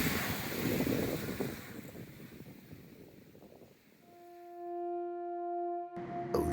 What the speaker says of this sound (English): Ocean over the toes.